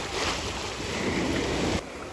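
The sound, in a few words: sea waves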